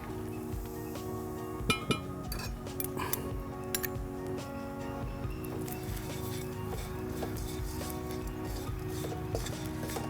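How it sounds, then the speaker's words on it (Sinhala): Chillies fry in a pan for a papaya curry while a utensil stirs them, giving steady close sizzling with light clinks and scrapes of metal throughout. "කලවම් කරනවා අපේ මිරිස් ටික කර වෙන්නේ නැති වෙන්න."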